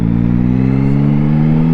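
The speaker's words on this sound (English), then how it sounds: "For a stock exhaust, this bike doesn't sound too bad," A Yamaha Tracer 9 GT Plus motorcycle on its stock exhaust revving loudly and close, a steady deep engine drone that climbs slightly in pitch.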